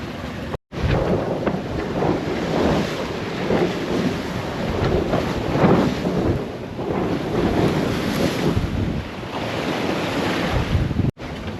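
Big seas and strong wind on a sailboat passage from Tahiti to Hawaii: a continuous, loud roar of wind and rushing water, with surging waves swelling and fading throughout and no voices.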